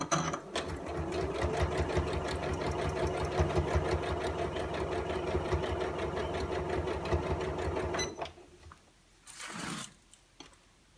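Sewing machine running steadily for about eight seconds as it stitches around a fabric dust cover for a ScanNCut cutting machine, close and even, then stopping and leaving a short rustle.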